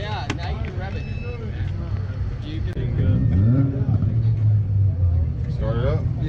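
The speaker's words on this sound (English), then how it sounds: "now you can rev it" A Honda car engine with a freshly replaced head gasket revs at a car meet, a steady low rumble that swells louder and rises in pitch partway through, with voices talking over it nearby.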